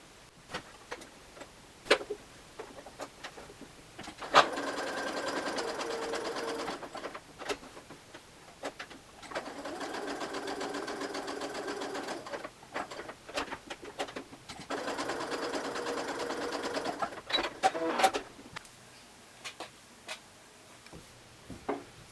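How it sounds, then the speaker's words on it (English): A home sewing machine runs a long basting stitch along a stay-stitching line on a shawl-collar garment: three separate whirring runs of rapid, even stitching, each a few seconds long, separated by quiet pauses and small clicks. "I've set my machine to a basting stitch, and I'm going to stitch right along that stay stitching line"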